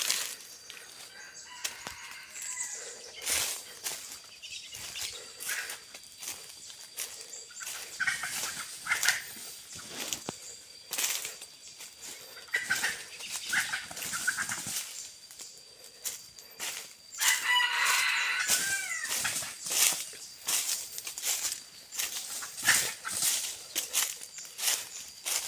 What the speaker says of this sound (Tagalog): nahuli natin yung inahin.